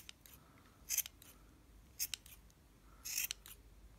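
Scissors snip through the yarn of a handmade pompom while it is shaped, giving three quick, crisp bursts of cutting at spaced intervals, close and alone over a quiet background.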